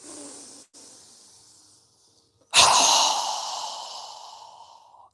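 A deep yoga breath in a guided class: a soft breathy inhale, a short pause, then a sudden louder hissing exhale that slowly fades over several seconds, close and alone.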